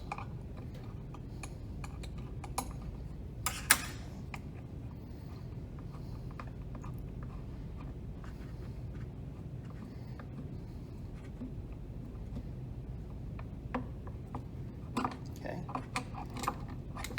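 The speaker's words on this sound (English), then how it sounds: "I'm now just using that wrench to unthread the shaft out of the pulley while I hold the bottom of it with a pair of channel locks." Wrench turning a shaft out of the pulley of a Carpigiani K3 agitator housing, quiet irregular metallic ticks and clicks over a low background hum, close but faint, with speech in the background.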